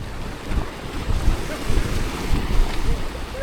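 Choppy ocean water at Ras Tanura Corniche, Saudi Arabia, sloshes and splashes steadily, mixed with gusty wind buffeting the microphone and the low drone of a boat.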